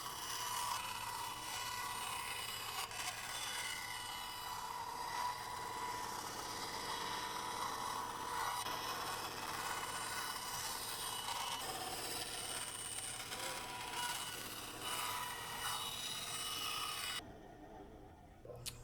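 Edges of a DIY hybrid holster are smoothed by hand with steady, continuous rasping and rubbing strokes close by, dropping away abruptly near the end.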